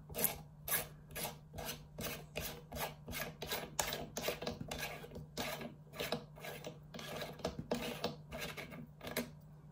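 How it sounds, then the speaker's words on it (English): Muzzle brake being unscrewed from a KWA VM4 Ronin T6 airsoft rifle, a quiet rhythmic rasping of threads scraping in steady repeated strokes, close by and with no speech. "Then we should be able to unscrew the muzzle brake itself."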